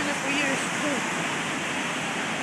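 A Mount Rainier waterfall swollen with snow melt roars as a steady, broadband rush close by, with brief voices over it.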